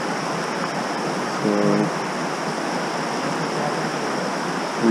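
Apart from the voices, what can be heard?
river water flowing through the Narrows, Zion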